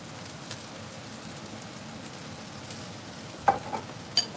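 Cooking oil and cooking wine sizzling in a hot pan for a Chinese-style lobster pasta, a steady soft hiss throughout with a few sharp clinks near the end, no talk.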